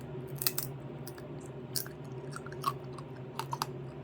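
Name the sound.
chewing crispy dehydrated frozen vegetables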